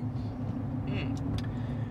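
A big truck rolls through rush-hour traffic, a steady low engine and road drone heard from inside the cab, with a couple of faint clicks and squeaks over it.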